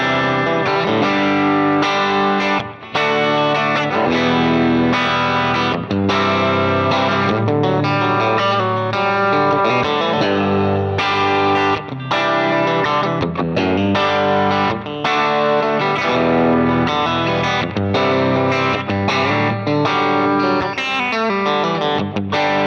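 Electric guitar played through a Quad Cortex preset modelled on a Fender Hot Rod Deluxe amp, a loud, continuous stream of driven chords and notes with effects and slight echo, no talking.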